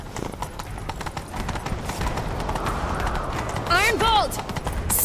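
Rapid horse hooves gallop in a steady clip-clop rhythm in The Witcher 3, with a brief whinny near the end and a voice speaking over the hoofbeats.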